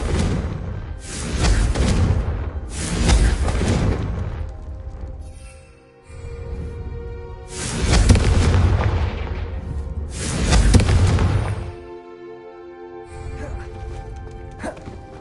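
Repeated heavy magical blasts from a Confringo fire spell in the Hogwarts Legacy video game, four loud booming bursts at roughly two-second intervals, each with a crackling tail, over a soft musical background.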